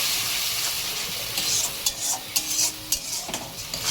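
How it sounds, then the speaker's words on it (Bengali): Ground spices with salt, turmeric and cumin powder frying in oil in a pan, a continuous soft sizzle under repeated spatula scrapes and stirring taps that grow more distinct toward the end, no speech. "এবার সব মশলাগুলো ভেজে নেব।"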